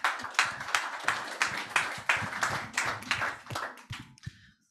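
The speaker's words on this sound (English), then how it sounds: "A round of applause again, please." Audience applause after a bioenergy workshop talk, distinct individual claps in a fairly small room, quite rhythmic at first and then thinning out to a few last claps before fading to silence.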